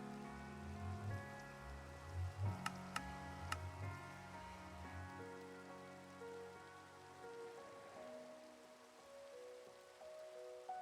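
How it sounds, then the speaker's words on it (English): Rain falls as a tabletop-game weather effect, a steady patter of drops with faint ticks over a low musical drone that thins out midway, quiet and even throughout. "when the rain begins to fall"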